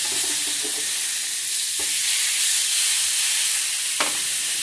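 Pork steaks sizzle on an Ozark Trail griddle, a steady bright frying hiss close by, broken by a few soft scraping or stirring knocks.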